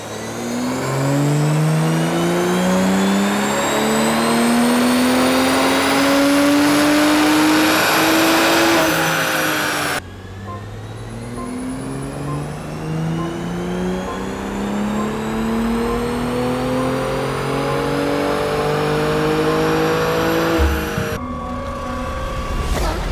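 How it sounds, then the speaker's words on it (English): A stock 2025 BMW M340i with the B58 engine runs on a dyno, revving loudly and steadily through two long rising pulls with a brief lift between them, ending abruptly; no voices. "Here goes a completely factory run on a 2025 M340i."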